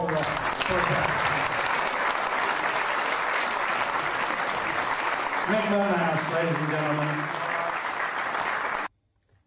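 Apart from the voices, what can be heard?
audience applause for wrestler Mick McManus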